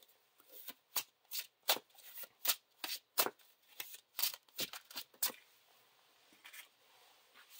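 Playing cards shuffled during a Lord of the Rings card game session, a rapid series of crisp riffling bursts close to the mic, with quieter ruffles trailing off at the end and no talking.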